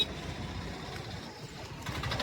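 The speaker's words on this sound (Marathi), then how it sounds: "ऊसाचे ट्रॅक्टर" Large tractors hauling sugarcane rumble along a village road, a low, steady engine drone at moderate distance with no talk.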